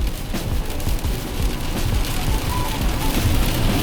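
Steady rain falls on a car driving through low cloud, a dense continuous hiss over the low rumble of the moving vehicle, with no one speaking.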